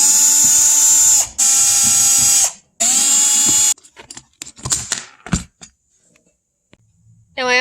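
Bursts of a hand ratchet working on a hinge fastener of a boat seat, three loud runs of rapid clicking followed by scattered close clicks and clunks, no talking.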